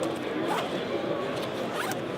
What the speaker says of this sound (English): This just zips up closed, nice and neat.